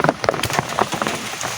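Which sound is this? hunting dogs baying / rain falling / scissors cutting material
rain falling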